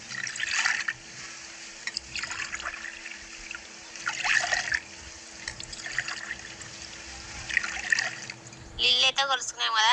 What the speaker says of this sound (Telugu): 3 గ్లాసులు నీళ్ళు అయితే పోసుకుందాం